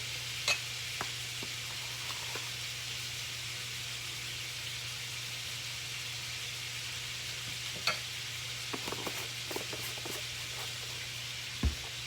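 A spoon stirs a mixture of egg and white sugar with cornmeal and butter in a bowl, making a steady soft swishing scrape with a few sharp clinks against the side.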